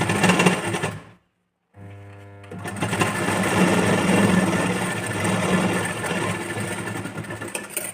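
Sewing machine stitching a blouse hook-and-eye strip, a close, loud mechanical whir that stops briefly, then restarts with a rapid rhythmic chatter that settles into a steady run.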